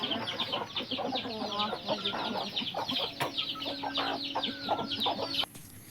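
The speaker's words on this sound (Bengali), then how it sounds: "আমি বের করছি মুরগি এদিকে মুরগির গোয়াল ঝাড় দিচ্ছি" Chickens cluck and chatter busily as they are let out of their coop, a dense close flock of overlapping calls with a few sharper squawks, stopping abruptly near the end.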